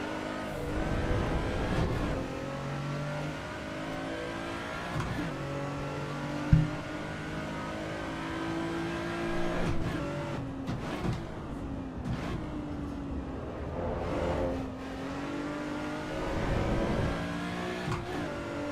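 A race car engine in the Assetto Corsa EVO racing game climbs and falls through repeated revs and gear changes, with one sharp thump partway through, heard alone and close without any voices.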